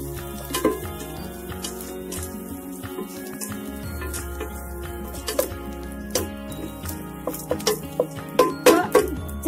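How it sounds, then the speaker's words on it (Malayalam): A spoon stirring grated coconut in a pan, with soft scraping and light clinks against the metal over a low background hum; the taps grow quicker and more regular toward the end. "ഇനി ഒന്ന് നല്ലപോലെ ഇളക്കി കൊടുക്കാം."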